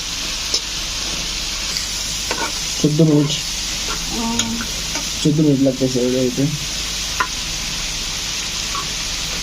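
Dried fish and eggplant curry stirred and fried in a pan over low gas, a steady sizzle with scraping stirs, while someone talks intermittently over the cooking.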